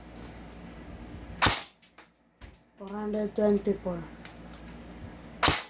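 A tan Sig M4A1 airsoft carbine fires two sharp, loud single shots several seconds apart. A man briefly calls out a number between them.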